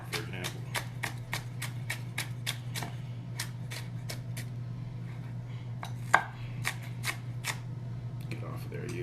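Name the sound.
chopping leftover vegetables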